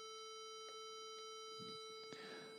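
Intermittent electronic beeps from a LabVIEW program sound at a steady pitch, overlapping into a near-continuous tone, with a few short clicks and a brief burst toward the end.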